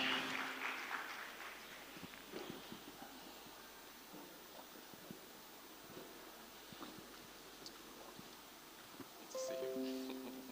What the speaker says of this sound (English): So please a warm round of applause as she takes the stage.